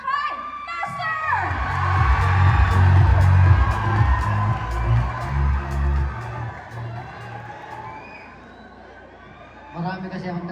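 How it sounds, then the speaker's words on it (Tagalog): A fiesta crowd cheers, whoops and shouts loudly, with children's yells mixed in, swelling early and then fading before a fresh burst of cheering near the end, an announcer's voice running beneath the noise. "Malakas ang palakpakan at sigawan para kay Seven!"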